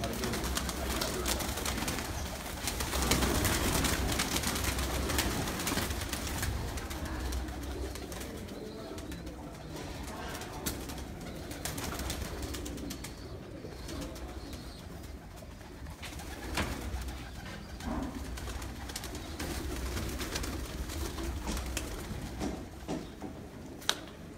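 Pigeons on a rooftop in Sialkot coo continuously and fairly close over steady background hum, with occasional soft flutters and pattering.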